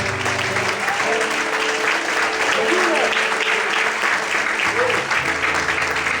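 A church congregation claps during an evening service, a sustained broad wash of applause over background music, with faint voices and crowd murmur underneath.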